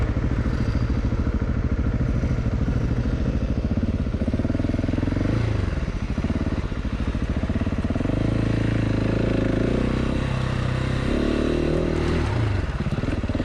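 A Husqvarna 701 and a KTM 690 ride offroad up a small hill, their single-cylinder engines droning loud and close throughout, with revving surges, clattering and thuds over the rough ground.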